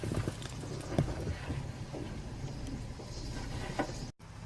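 Horses on the Trans-America Trail in Oklahoma, a few scattered hoof thuds and soft clip-clop steps fairly close against low outdoor background noise, briefly cut near the end.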